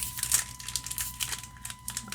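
Foil Pokémon Brilliant Stars booster packs crinkle and rustle in the hands at close range, a quiet run of irregular crackling bursts as the stuck-together packs are pulled apart.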